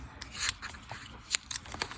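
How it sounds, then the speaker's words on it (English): Scissors snipping through printed photos for a memory-keeping journal: a series of crisp, close cuts in an uneven rhythm, with one sharper snip standing out and no talk. "I also use the scissors to cut up my pictures"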